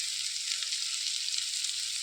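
Onions sauté in a hot pan with a steady, close sizzling hiss that runs unbroken throughout.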